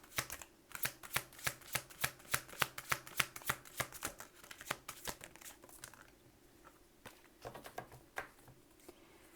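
Fairy tarot cards being handled and shuffled, a quick run of soft, crisp riffling snaps in steady rhythm, then slower, sparser slides and taps as the deck is gathered, close and quiet.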